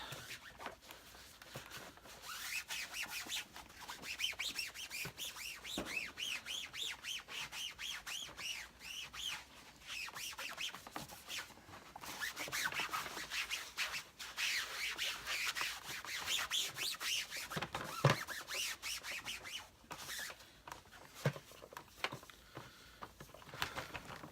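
A steady soft scrubbing and rubbing over the plastic surface of an Electrolux 345 750-watt cylinder vacuum cleaner during cleaning, close and continuous with scattered small squeaks and taps, no voices.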